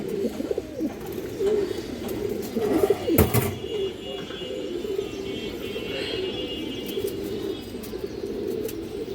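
Black-tailed pigeons, sold as a breeding pair, coo in low soft bursts close by, with faint chirps and a brief rustle partway through.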